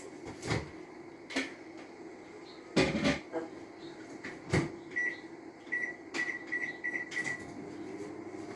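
A microwave oven set to 600 watts remelts butter: sharp door clunks and knocks come first, then a series of short, clear beeps under a low background hum.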